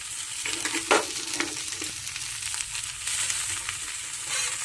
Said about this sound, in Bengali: সামান্য হালকা স্যালো ফ্রাই করার পরেই এবারে দিয়ে দিলাম পেঁয়াজ কলি কুচিগুলো দিয়ে দিচ্ছি